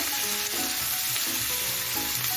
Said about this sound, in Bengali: পেঁয়াজটা দিয়ে দিচ্ছি পেঁয়াজটাকে আমি পেঁয়াজটা মিডিয়ামে রেখে